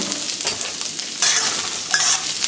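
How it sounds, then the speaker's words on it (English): Garlic, ginger and onion stir-fried in a hot pan give a steady close sizzle with scraping stirs, loudening partway through, with no talking. "So just give that a stir fry there. Just sear the onions."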